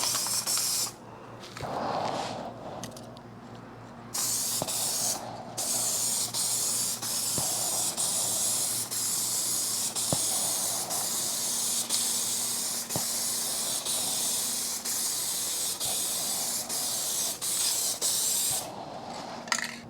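Spray gun laying down a coat of paint on the rear window channel of a Mercedes W126 being repaired for rust: a steady close hiss runs almost continuously for about twenty seconds, with a few brief pauses early on and near the end.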